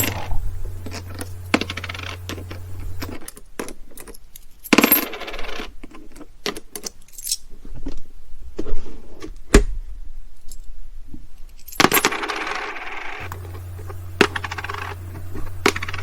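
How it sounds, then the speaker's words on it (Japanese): Several small metallic clinks and taps, a coin dropping and rattling in a plastic cup holder inside a Toyota HiAce van, scattered over low background hum. "ちょっとコインを落としてみましょう。"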